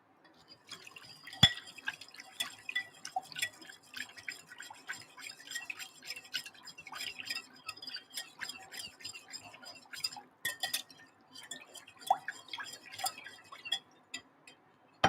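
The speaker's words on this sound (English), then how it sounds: "I've got my whisk." Whisk beating raw honey dressing in a glass bowl for cold soba noodle salad, heard as quiet, quick irregular ticks and light clinks that run through the whole stretch with no talking.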